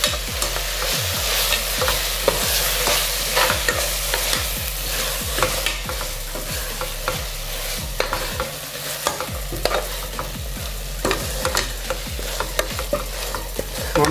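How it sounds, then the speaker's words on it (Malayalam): Steady stirring and scraping of Andhra mutton curry in a pan, repeated spoon strokes over a continuous sizzle, close and fairly loud with no talking. "നന്നായിട്ട് മിക്സ് ചെയ്യാം"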